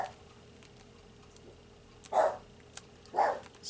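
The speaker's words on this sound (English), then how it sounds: "I have no idea what she's barking at." A dog barks twice indoors, two short, moderately loud barks about a second apart, heard at some distance over a quiet room with faint small tapping sounds.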